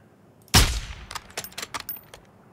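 One loud, close gunshot in Call of Duty DMZ with a decaying echo, followed by a scattered run of fainter, more distant shots.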